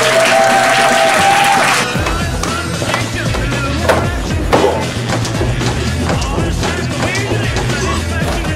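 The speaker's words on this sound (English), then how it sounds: "why don't we hear a big round of applause for Grandmaster Jim Brassard!" A crowd applauds loudly, the clapping dense at first and then dropping in level, followed by a busy mix of thumps, knocks and low rumbling sounds.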